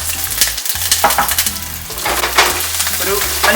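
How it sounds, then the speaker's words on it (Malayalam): Sliced onions and curry leaves sauté in hot oil with popped mustard seeds for a Kerala chicken roast, a loud, continuous sizzle close by with stirring clatter throughout and no voices. "നമ്മുടെ സവോള വഴറ്റി കഴിഞ്ഞു."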